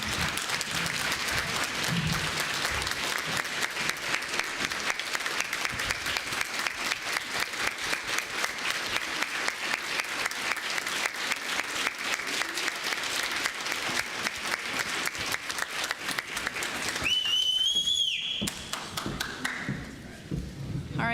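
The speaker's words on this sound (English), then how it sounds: "Let's give these girls a round of applause. A standing ovation." A large audience claps and applauds for New York State Dairy Princess contestants in a standing ovation, a steady dense roar of clapping for about seventeen seconds before it thins and fades out.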